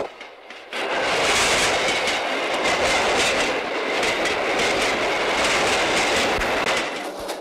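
A train rolls steadily along the rails with a continuous rumble and faint rhythmic clatter, loud and close, starting after a brief quieter moment.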